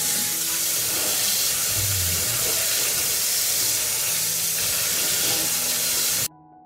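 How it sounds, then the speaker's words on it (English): Fresh cranberries are washed under running tap water, a steady close rushing hiss of water that continues unbroken, then cuts off abruptly near the end. "I'll wash them first."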